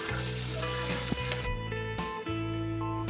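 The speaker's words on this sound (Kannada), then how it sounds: "ಈರುಳ್ಳಿಯನ್ನು ಉದ್ದುದ್ದಕ್ಕೆ ಕಟ್ ಮಾಡಿ ಹಾಕಿ ಅದನ್ನು ಗೋಲ್ಡನ್ ಬ್ರೌನ್ ಆಗೋವರೆಗೂ ಮೀಡಿಯಂ ಫ್ಲೇಮಲ್ಲೇ ಇಟ್ಟು ಫ್ರೈ ಮಾಡಬೇಕು" Sliced onions fry over a medium flame for egg dum biryani, giving a dense, steady sizzle with occasional stirring, under loud, sustained music.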